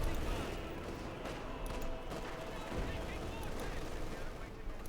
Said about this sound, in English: Fear propaganda artillery again here being unleashed against Elpern and his forces